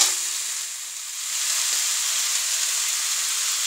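Ghee sizzling in a pan of potato khichdi, a steady bright hiss close up that dips slightly, then settles into an even fry.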